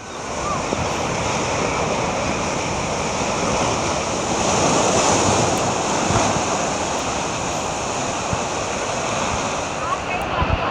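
Sea surf at Tiruchendur beach, where the sea had suddenly receded about 100 feet, a steady broad wash of breaking waves and wind, continuous and fairly loud with no clear break.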